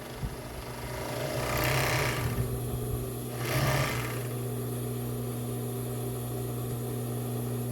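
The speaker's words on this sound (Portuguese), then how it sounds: "você vai passando o overlock aqui" An overlock sewing machine stitches fabric for a lingerie finish, whirring up in two quick bursts over a steady motor hum, close and moderately loud.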